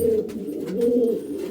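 A pigeon in a breeding cage gives a low, throaty coo, two soft rolling phrases close by with no other sounds.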